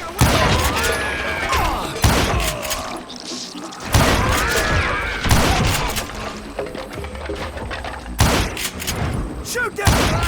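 Repeated loud gunshots in the Western shooter Call of Juarez: Gunslinger, sharp cracks landing every second or two with echoing tails and ricochets between them.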